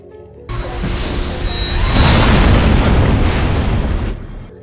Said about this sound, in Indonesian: Anne langsung bergegas membawa bensin itu ke ruangan Lonely Traveler dan meledakkan tabungnya